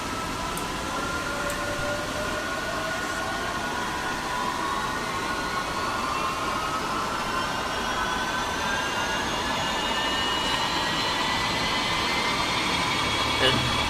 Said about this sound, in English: I will start the left engine this time around first